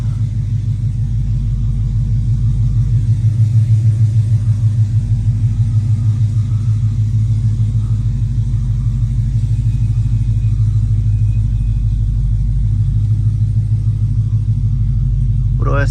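A Dodge SRT with a Flowmaster exhaust idles steadily, giving a deep, loping rumble with a rhythmic burble that stays loud and constant throughout, heard outdoors.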